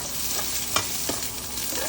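Onions sautéing in a pan for cabbage with ground pork, a steady close sizzle with a couple of brief stirring scrapes cutting through the continuous frying hiss.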